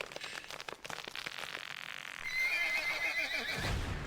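Horse whinny from the video game Arzette: The Jewel of Faramore, a loud, shrill, wavering neigh rising out of busy game sounds with clip-clop hooves, then fading off at the end.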